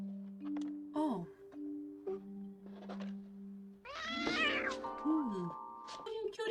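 A cat meows several times amid film dialogue from the 1961 movie Breakfast at Tiffany's, with short rising and falling cries over ongoing voices and room sound.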